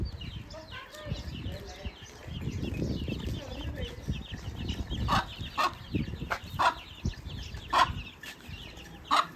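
Chickens cluck and squawk in a rural village yard as they scatter and run, with several sharp, close calls over a steady busy background and someone talking throughout.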